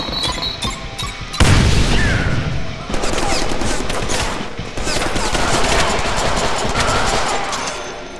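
Deadpool's gun set to perforate in the Deadpool game, a loud, dense stream of rapid automatic fire with heavy booming impacts, pausing briefly near the start and again midway before hammering on.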